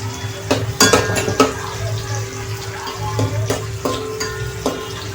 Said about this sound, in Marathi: टोमॅटो छान परतायचा आहे आपल्याला तेलामध्ये